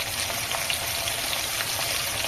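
Chopped tomato frying in a pan with lentils, a steady close sizzle and crackle that holds evenly for the whole stretch.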